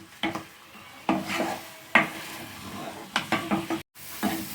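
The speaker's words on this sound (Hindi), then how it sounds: "तो लगातार चलाते हुए देखिए मूंग की दाल जो है थोड़ी थोड़ी भुनने लग गई है।" Moong dal roasting in ghee is scraped and stirred around a pan in repeated close scrapes and clinks of a spoon against metal, with a soft sizzle underneath and brief pauses between strokes.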